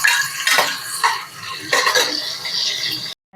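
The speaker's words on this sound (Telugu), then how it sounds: "నెక్స్ట్ కట్ చేసుకున్న ఆనియన్స్ ముక్కలు వేసుకోవాలి." Sliced onions go into hot oil with cinnamon, star anise, cardamom and cloves for a mushroom biryani, bringing a loud close hiss and clattering stirs against the pan before stopping abruptly.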